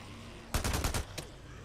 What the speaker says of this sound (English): Let's use this gun.